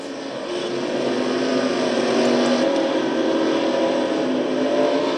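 A race car engine drones steadily and loudly in a sim racing game as a car spins out on turn two of an oval race, a sustained roar that swells slightly without any voices.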